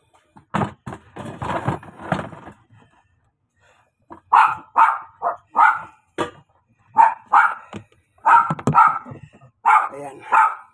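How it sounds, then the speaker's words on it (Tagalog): A dog barks repeatedly in short bursts, fairly close, with a brief pause between a first run of barks and a longer second run. "Maingay yung aso namin."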